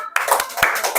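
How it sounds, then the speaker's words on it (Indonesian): Students in a classroom applauding a group, a short burst of many hands clapping fairly loudly, mixed with a bit of voice. "tepuk tangan buat kelompok 2"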